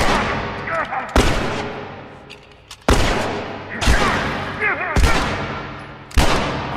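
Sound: gunfire from an enemy in video game The Last of Us

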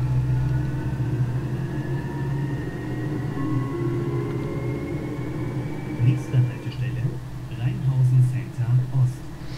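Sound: bus engine at full throttle, OMSI Bus Simulator video game

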